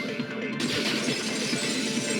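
A vase shatters in the video game Danganronpa 2, a sudden bright crash of breaking ceramic that spreads into a sustained, dense spray of scattering fragments.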